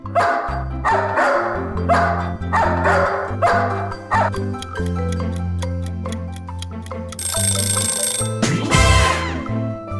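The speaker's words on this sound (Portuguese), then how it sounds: "Muito bem, é um cachorro." A series of rhythmic dog barks over a musical backing with ticking sounds, followed by a bright bell-like jingle near the end.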